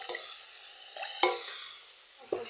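Fish masala sizzling in a pan as a little water goes in: a soft continuous hiss broken by a few brief scraping clicks, close and fairly quiet.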